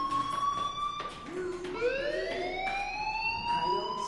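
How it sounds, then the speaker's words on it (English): A fire alarm rings in the video game Life Is Strange, a continuous electronic siren tone that holds, then sweeps upward, steady and fairly loud throughout. "Hey, do you hear that fire alarm?"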